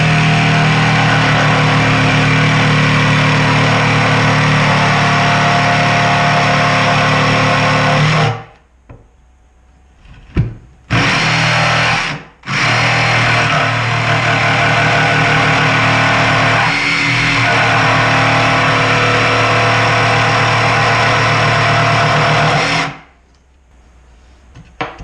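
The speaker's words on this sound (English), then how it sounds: "we're going to go ahead and use the saw to cut the rest of the entrance hole out" A saw cuts an entrance hole in a wooden Layens beehive, giving a loud, continuous, harsh buzzing roar that stops briefly a few times before restarting and running on.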